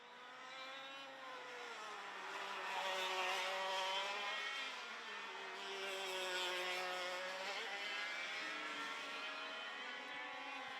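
Classic pre-1995 100cc racing karts howl at full power during a race at Vojens, a steady high-pitched engine whine heard from a distance that swells and fades slightly as the karts go by.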